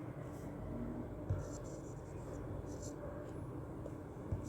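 A formula being written on a board, faint scratchy strokes in short intermittent bursts beneath a steady low background rumble, with a couple of soft taps.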